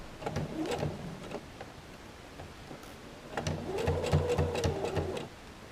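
A sewing machine stitches a pocket seam on trousers, running in two short bursts of rapid rhythmic stitching separated by a pause, close and moderately loud.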